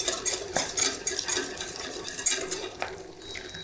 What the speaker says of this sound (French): Donc on gratte vraiment ça.